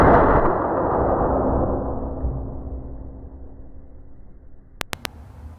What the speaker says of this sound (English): I'll just have it standing up and I'll just shoot it.